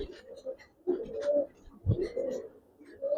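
Silver pigeons cooing close by, with several soft, rolling coos that repeat in a steady rhythm and pause briefly between calls.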